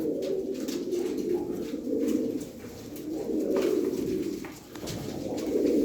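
Pigeons coo steadily in low, throaty repeating calls, several birds overlapping close by with no talking.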